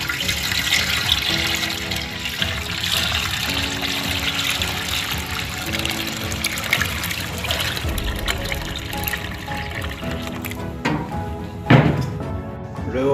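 Milk sweetened with sugar is poured through a strainer in a steady, continuous liquid stream, close and fairly loud, before being boiled for yogurt.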